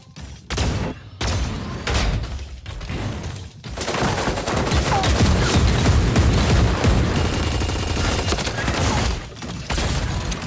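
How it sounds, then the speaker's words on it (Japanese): Gunfire in the mecha battle game Super Mecha Champions: sharp shots give way to dense, continuous bursts of rapid fire and booms that stay loud to the end. "銃声が聞こえた。"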